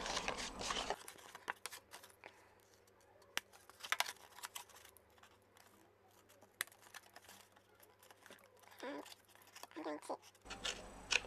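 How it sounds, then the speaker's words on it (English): Scissors snipping paper card for a handmade tealight box, scattered soft cuts and rustles, up close and fairly quiet, with talk at the start and end. "now I'm going to do some snipping along the bottom here"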